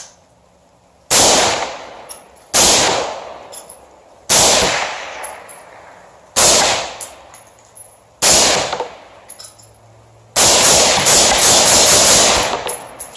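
Loud bursts of rapid gunfire from a budget AR-15 rifle, five short volleys separated by brief pauses, then a longer sustained burst at the end, close and sharp with ringing decay between strings.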